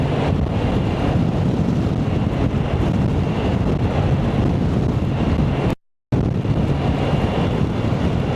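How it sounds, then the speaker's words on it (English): Constant loud, rumbling headwind buffeting the microphone on a motorcycle ride near Taos, New Mexico, steady throughout with one brief dropout, no speech. "I think it might be a headwind going back home."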